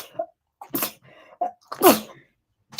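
Two sharp sneezes, the second louder and more forceful, separated by short breaths and quiet pauses, close and indoors.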